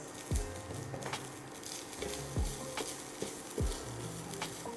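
Grated coconut and shallots fry in a pan for a Kerala mushroom theeyal, a steady sizzle broken by a few rhythmic scraping stirs of a spoon against the pan, with no talking.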